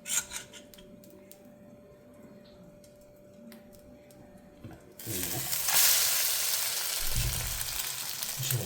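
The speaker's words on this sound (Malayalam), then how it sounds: "ബ്രെഡ് ഇതിലേക്ക് മുക്കിയിട്ട് ബ്രെഡ് ടോസ്റ്റ് ചെയ്യാനുള്ള ഒരിതാണ്" Bread dipped in egg hits a hot pan and breaks into a loud, dense sizzle partway through, after a quieter stretch of faint clicks and handling noises. Nobody talks.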